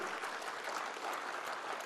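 Audience clapping at a school annual day event, a steady dense wash of applause from a crowd throughout, loud and continuous with no pauses.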